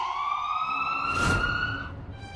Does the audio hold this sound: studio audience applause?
no